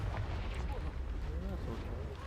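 A Confringo fire spell bursts in Hogwarts Legacy, giving a dense, rumbling, explosive roar that holds steady at close range for a couple of seconds, with faint tonal swirls drifting over the low boom.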